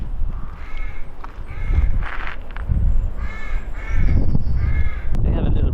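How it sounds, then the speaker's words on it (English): Several crows caw in repeated harsh bursts near a railway line-side hut, loud and fairly close over rumbling wind and outdoor noise, with no talk. "As you can hear, the crows are in good voice."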